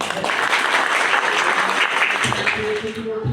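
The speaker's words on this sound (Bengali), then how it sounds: "হাততালি" Applause at a college event where uniforms and books are handed out, a dense, steady crowd clapping that goes on throughout with a few voices under it and fades slightly at the end.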